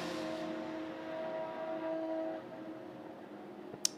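Ferrari 488 and Corvette race cars running together at the 24 Hours of Le Mans, a faint, distant engine drone holding steady then fading, with a sharp click near the end.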